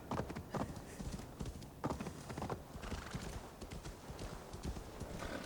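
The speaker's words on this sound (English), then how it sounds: "Even going through snow with the horse." A horse's hooves clip-clop at a steady walking pace through snow in Assassin's Creed Valhalla, close and fairly loud, with a horse's neigh or whinny and soft ambient wind behind the footfalls.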